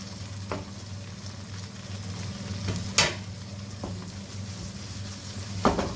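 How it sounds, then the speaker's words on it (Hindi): Fried fish pieces dropped into sizzling masala curry in a pan on the stove, giving a steady close frying hiss with a few brief clinks and stirring knocks. "अब मछली क्योंकि फ्राई की हुई है इसलिए मैं इसको डायरेक्टली इसमें सीधा डाल रही हूँ।"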